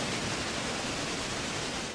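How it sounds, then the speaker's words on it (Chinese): Victoria Falls in the dry season, with only thin streams of water dropping over the cliffs, heard as a steady, broad, hissing rush of falling water with no voices. "这么大的瀑布现在就这么2溜水可以看啊"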